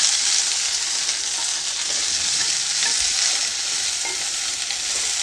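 Okra frying in a tablespoon of oil over a medium gas flame gives a steady, even hiss of sizzling that continues throughout, close by with little variation.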